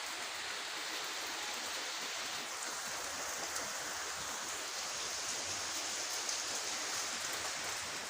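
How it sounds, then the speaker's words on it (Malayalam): Heavy rain falls steadily in a dense, unbroken hiss, close and even throughout, with no voices. "അടിപൊളി മഴയാട്ടാ നിർത്താണ്ട് പെയ്യുന്നു"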